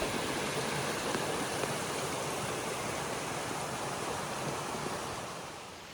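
A creek flowing beside a campsite, heard as a steady, broadband rush of water, close and continuous, fading slightly at the end.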